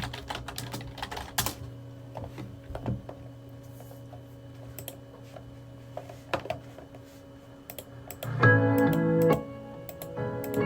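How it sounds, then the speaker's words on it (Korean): Light clicking taps on a computer keyboard in an uneven rhythm, close and quiet, with a brief louder tonal burst near the end. "키보드로 박자 타기."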